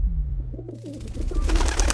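Pigeon giving soft, low coos close by, followed by a burst of broadband rustling or flapping noise toward the end.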